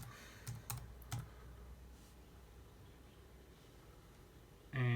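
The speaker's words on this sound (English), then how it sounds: "if you type it in, if you're not using a link, if you type in Bluey" Computer keyboard typing comes as a quick burst of clicks early on, then fades to quiet background hiss, with a louder thump near the end.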